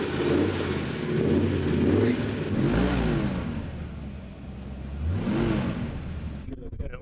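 Loud car engines rev and roar at an evening car cruise celebrating automotive roots, with swelling acceleration passes and a crowd murmuring with voices underneath.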